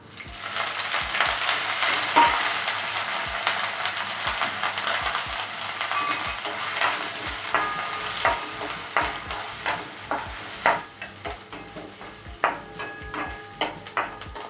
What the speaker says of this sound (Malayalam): എൻ്റെ ഉള്ളി മുളകും മൂത്തിട്ടുണ്ട്. അതിലേക്ക് നമുക്ക് മുരിങ്ങയില ഇട്ട് കൊടുക്കാം.